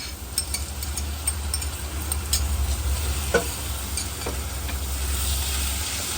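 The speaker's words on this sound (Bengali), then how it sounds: "আমি এখন একটু এই মাংসটা একটু ভাজা ভাজা করবো" Chicken pieces with tomato sauce, barbecue sauce and chili sauce fry and get stirred in a pan. A steady close sizzle runs throughout, broken by scraping stir strokes, with no talking.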